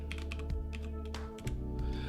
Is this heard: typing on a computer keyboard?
yes